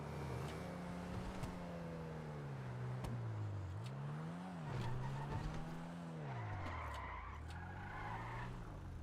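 In the video game GTA Online, a car engine revs up and down continuously while driving, its pitch rising and falling with gear changes, and brief tire squeals appear toward the end.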